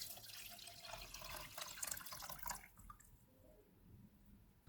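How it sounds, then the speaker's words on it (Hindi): About three cups of water poured into jaggery, a faint splashing trickle for roughly two and a half seconds before it stops, leaving a quiet background. "इसमें 3 कप पानी डालेंगे।"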